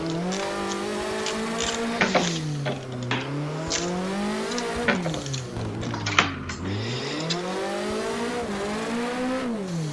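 A race car drifts in the Assetto Corsa driving game, its engine revving hard and rising and falling in pitch while tires squeal loudly, a continuous close, loud roar with no talk.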